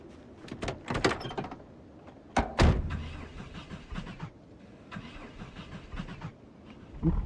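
In the Project Zomboid video game, a truck's door clunks a few times before the engine cranks with a loud burst and settles into a low, rumbling idle amid faint clicks and shuffling.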